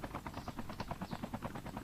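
A helicopter flies by in the video game Call of Duty, its rotors beating in a steady, rapid chop at moderate distance, heard alone without talk.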